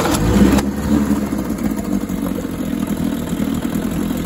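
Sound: 1953 Scott-Atwater 7.5hp outboard motor running

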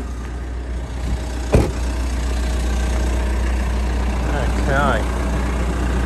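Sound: 2016 Mitsubishi Triton engine idling

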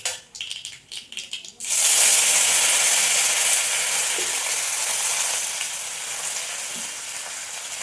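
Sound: curry leaves sizzling in hot oil

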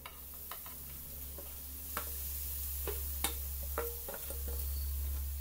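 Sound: grated carrot frying with moong dal in pan

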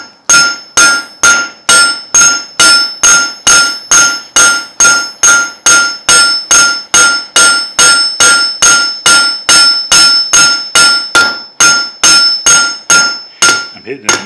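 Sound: hammer peen striking metal while drawing it out

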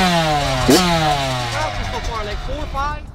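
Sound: 2021 Kawasaki KX85 dirt bike engine running with choke on

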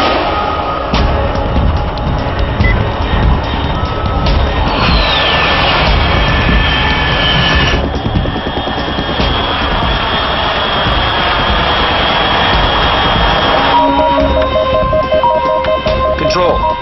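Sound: fast aircraft jet engine, from video game Metal Gear Solid 3

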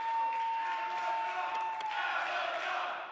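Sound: wrestling crowd cheering

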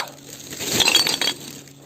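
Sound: glass items clinking while being sorted from a dump

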